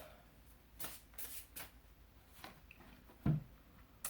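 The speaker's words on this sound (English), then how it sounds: "I love when decks shuffle so good." A deck of cards being shuffled in several quick riffling bursts, crisp and close, with short pauses between them and no talking.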